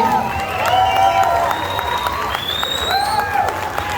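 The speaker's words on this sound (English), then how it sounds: "I need to let the applause go before I can translate" An audience at a Costa Rica convention panel with Troy Baker breaks into loud applause and cheering, with scattered whoops and high shouts rising over sustained clapping for several seconds.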